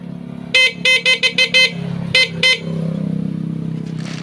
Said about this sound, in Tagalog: tumunog na po yung ating busina